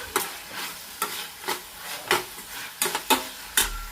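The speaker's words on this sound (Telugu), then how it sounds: "నేనైతే తాలింపు పెట్టేస్తానండి." Tempering sizzles in hot oil in a pan while a spoon stirs it, scraping in about eight quick strokes spread evenly over a few seconds. The sizzle is close and steady underneath, with no voices.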